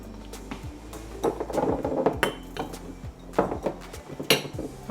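Drinking glasses clinking and knocking against each other as they are handled and moved while decluttering a kitchen, several bright close taps scattered irregularly with no voices.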